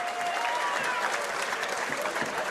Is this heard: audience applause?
yes